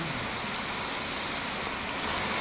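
Steady rain pouring outdoors, a dense, even hiss of falling drops that runs without pause throughout, fairly soft and with no voices over it.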